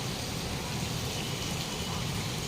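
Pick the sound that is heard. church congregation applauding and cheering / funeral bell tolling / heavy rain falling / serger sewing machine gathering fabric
heavy rain falling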